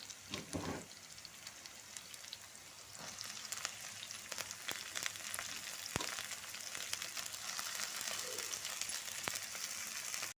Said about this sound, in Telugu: ఈ స్ప్రింగ్ ఆనియన్స్ మొత్తం ఇందులో వేసేసి అంతా ఫ్రై చేద్దాం